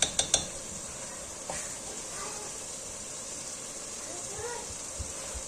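Spoon scraping and clinking in a pan while cooked qeema matar is dished out, a few sharp metallic taps at first, then soft stirring over a faint steady hiss.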